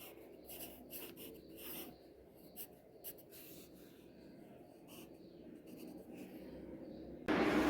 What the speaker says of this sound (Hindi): इस प्रकार हम ये सारे शब्दार्थ इस कॉपी में लिखेंगे।